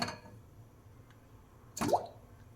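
A single soft plop and splash as palmyra sprouts drop into water in a cooker, with a faint trickle after, close by in an otherwise quiet space.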